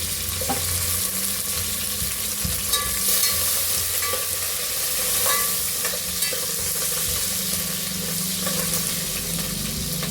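Onions and green chillies fry in a pan while being stirred, a loud continuous sizzle with scraping stir strokes and small pops throughout, no talking.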